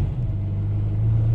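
A Zenvo TS supercar pulls out onto a racing circuit, its engine giving a steady, loud, close low rumble that builds slightly toward the end, heard from inside the car without talking.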